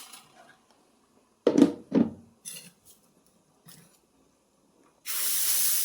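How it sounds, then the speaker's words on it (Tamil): Chopped vegetables go into a hot pan for a dried fish curry. A few clanks and thunks of utensils come first, then a sudden loud, steady sizzle as the vegetables hit the oil, close up with no talking. "நம்ம நறுக்கி வச்சுருக்க காய்கறியெல்லாம் எடுத்து சேர்த்துக்கலாம்."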